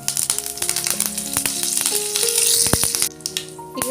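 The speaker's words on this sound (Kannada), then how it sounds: "ಈಗ ಎಣ್ಣೆ ಕೈದಾದ್ರಿ ಸಾಸಿವೆ ಹಾಕೋತೀನಿ ಈಗ ಕರಿಬೇವು ಹಾಕೋತೀನಿ" Mustard seeds and curry leaves sizzle and crackle steadily in hot oil while tempering for tamarind rice, with sharp pops over a continuous fry, fairly loud and close.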